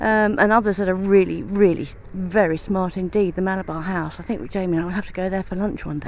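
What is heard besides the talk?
No everyday noises stand out.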